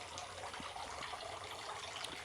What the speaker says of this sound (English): A garden should really engage all the senses, and the sound of water is instantly calming.